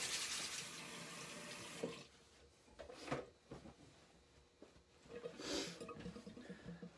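Tap water runs into a sink to wet the face before a shave with a Henson AL13 safety razor, a steady rushing stream for about two seconds, then intermittent splashing and handling noises.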